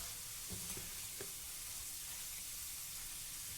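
Potatoes frying in hot oil on a medium-high flame while making garlic sauce, a steady soft sizzle throughout with a couple of brief louder crackles near the start, close and quiet, no talking.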